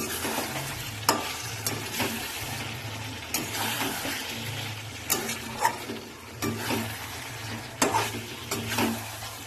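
Chicken pieces with meat masala and gondhoraj lemon leaves frying in a pan, with a steady sizzle and repeated scraping spatula strokes and clanks against the pan, close and fairly loud, no talk.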